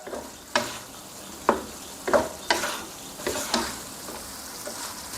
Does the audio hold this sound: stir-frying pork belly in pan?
yes